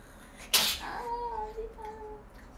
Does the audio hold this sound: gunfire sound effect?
no